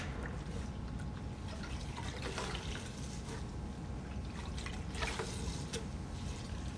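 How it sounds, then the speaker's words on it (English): A grout sponge used with pre-mixed grout is wrung out over a bucket of water, giving soft, steady watery trickles and drips at close range with no talking. "just wringing out the sponge, not dripping at all, very clean"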